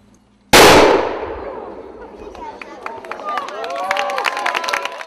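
A small 1848-49 era cannon able to fire shrapnel goes off at an outdoor ceremony with a single sharp, loud blast that rolls away into a long fading boom, followed by crowd murmur and scattered clapping.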